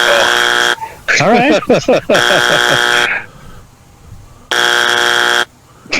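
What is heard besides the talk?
buzzer sounding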